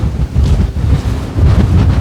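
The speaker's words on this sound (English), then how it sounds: "God, it's windy up here." Strong wind buffets the microphone aboard a narrowboat on the River Ouse, a steady loud low rumble and roar with no talk.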